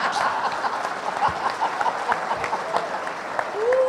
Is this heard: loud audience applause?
yes